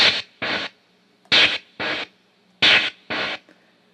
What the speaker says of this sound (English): The white noise works even if you don't have a beat set.